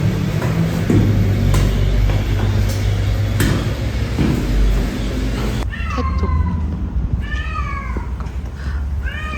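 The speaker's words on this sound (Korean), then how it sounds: "고양이 어디 있는 거지? 완전 가까운데 지금?" A cat meows close by, several rising and falling calls in the second half over a loud rumbling background of passing traffic, with no talk.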